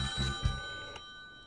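A telephone rings on a radio call-in line, with a couple of short bell bursts in the first half second before fading into a steady electronic hum, with no voices present.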